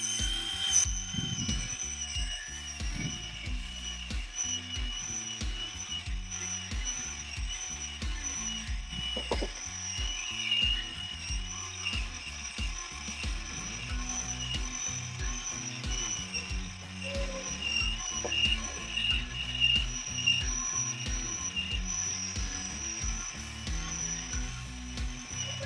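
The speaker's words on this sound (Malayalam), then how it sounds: "ഇനി ഈ മോട്ടർ ഓൺ ചെയ്ത് കൊടുത്താൽ മതി കേട്ടോ. മേലിലേക്ക് പോക്കുമ്പോൾ ഈ പിസ്റ്റൺ താഴത്തേക്ക് വരും കേട്ടോ." A homemade electric motor-driven piston machine for the kitchen runs continuously, giving a steady mechanical clatter with a rhythmic ratcheting knock from the moving parts, fairly close and with no talk.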